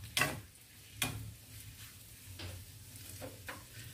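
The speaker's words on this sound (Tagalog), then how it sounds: "Halu-haluin po natin." Garlic, onion and meat for house-style pancit bihon sizzle in a pan while a utensil scrapes and taps against it in a few distinct strokes, close and fairly quiet.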